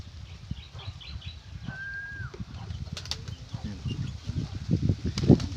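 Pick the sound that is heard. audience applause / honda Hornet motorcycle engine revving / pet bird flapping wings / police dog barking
pet bird flapping wings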